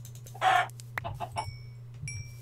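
Minecraft chicken clucking in a few short bursts, a louder squawk first and softer clucks after, fairly close over a low background hum with no voices.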